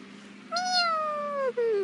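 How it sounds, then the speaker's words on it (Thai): A kitten meows once in a drawn-out, sliding call that falls in pitch and ends with a short second note, close and clear over a quiet background. "ลูกเหมียวเหมียวน่ารักไหมคะ"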